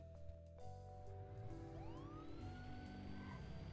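A video game ambulance siren wails with a rising sweep over a steady mechanical engine hum, fairly close and continuous.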